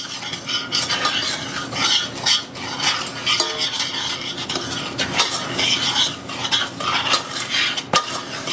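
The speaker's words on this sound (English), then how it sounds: "And I'm just going to mix that a little bit." Sugar is stirred in a pot in an even, scraping rhythm, with a spoon rasping and clinking against the metal. The sound stays close and moderately loud, with one sharper knock near the end.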